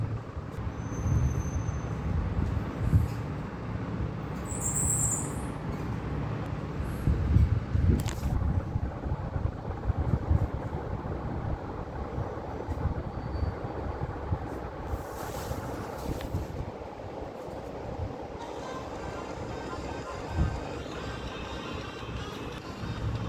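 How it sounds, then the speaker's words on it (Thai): Continuous low rumbling and rattling of a moving train in Hua Hin, Thailand, with steady wind-like roar and occasional clanks, no voices. "นั่งรถไฟสะดวกสบายเลย"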